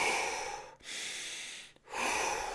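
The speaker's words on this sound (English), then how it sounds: "I'm just going to take deep breaths." Slow, deep breaths in and out during a healing session, each long airy breath separated by brief silent pauses, close and steady with no talking.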